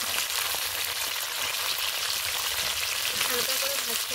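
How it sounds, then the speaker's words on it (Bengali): Cauliflower and beans frying together in a pan, a steady dense sizzle close up with no pauses, occasional faint stirring clicks near the end. "ফুলকপি আর বিনস একসাথে ভেজে নেবো।"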